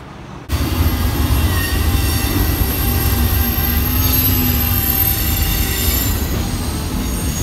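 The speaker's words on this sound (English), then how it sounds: "So ignore that train" A train rumbles past nearby with steady, loud rolling noise and high metallic wheel squeal running throughout.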